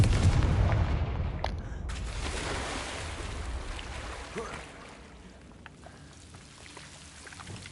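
A Confringo blast spell cast in the Hogwarts Legacy video game bursts loud and broad at the start, then fades into a long rumbling decay, with a voice talking over it.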